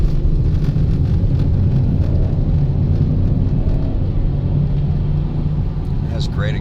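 Grey 2023 Audi RS7 moving through a U-turn on a test drive, heard from inside the cabin as a steady, loud low engine and road rumble that holds even throughout, with someone talking over it.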